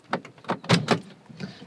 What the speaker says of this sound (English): We have to open the door from the outside in this Kombi.